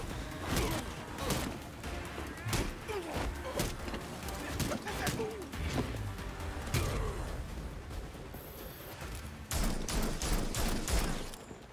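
Gunfire crackles through a Gotham Knights battle, with repeated sharp shots and scattered bursts over a steady bed of game noise and effects, the volume holding loud and busy throughout.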